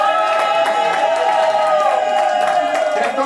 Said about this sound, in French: Quelqu'un peut pousser des cris de joie pour applaudir notre bien-aimé, le frère Michel?